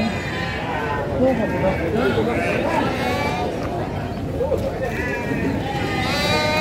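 Sheep bleat repeatedly amid the constant crowd hubbub of a sheep livestock market in Padalarang, the animals close and fairly loud while people talk nearby.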